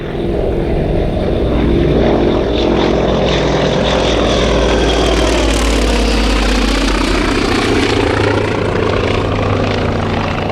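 A vintage biplane drones loudly overhead at the Warbirds over Wanaka air show in New Zealand, its engine pitch rising and falling as it passes, steady and continuous with no voices.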